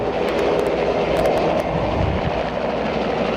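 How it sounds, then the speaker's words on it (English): State police helicopter passing overhead while taking aerial photographs of a golf course, heard as a steady, loud rotor and engine roar that fills the whole clip with no talk. "The club had state police send over their helicopter to take aerial photographs."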